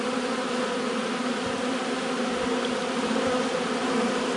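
Dense, steady buzzing of many honeybees making orientation flights around a single-box starter hive at midday, a continuous close drone with no other sounds.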